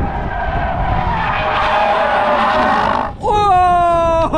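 Hyundai Ioniq 5 N electric car drifting in Korea, with a long loud tire skid under the roar of motion, then a short dip and a sharp, sustained high-pitched tire squeal.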